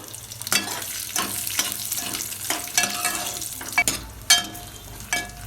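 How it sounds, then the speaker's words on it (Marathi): Garlic and ginger roasting in a hot pan for Vidarbha-style chicken curry, a loud continuous sizzle broken by repeated scraping strokes of a spatula at an irregular rhythm, close up with no talking. "ते बघा लसण अद्रक चांगला भाजत आलाय."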